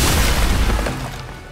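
A loud, booming explosion from the Marvel's Midnight Suns video game rumbles with heavy low-end and decays over about a second, with no talk.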